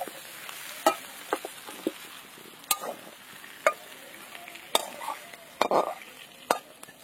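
Fish oil pouch fried with mixed vegetables in a pan: a low, steady sizzle broken by sharp, irregular clinks and scrapes of a spatula stirring against the pan, close by, with no talking.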